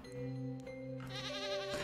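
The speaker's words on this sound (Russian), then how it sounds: "Козочку." Goat bleating in the farm game Stardew Valley, a short wavering call rising over steady background game music, fairly clear and close.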